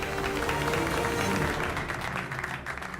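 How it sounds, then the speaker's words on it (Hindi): A group of people claps steadily for a retiring soldier at a farewell gathering, a dense, continuous round of applause that tapers slightly toward the end. "अरे जब ये रिटायर हो रहे हैं तो इनके लिए ताली क्यों बजाना?"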